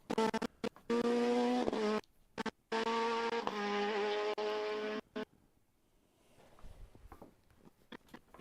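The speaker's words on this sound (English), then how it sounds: "I could hear a car, but I'm not sure." A rally car on a rally stage roars past with a strained, high-revving engine note for several seconds, broken by brief gear-change gaps, then fades into faint outdoor ambience.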